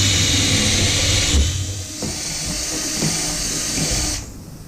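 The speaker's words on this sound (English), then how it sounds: "and the Bix bit gives us a nice center hole with our countersink" A power drill whines steadily at close range, boring a countersunk hole into a wooden table top for a few seconds before winding down and stopping.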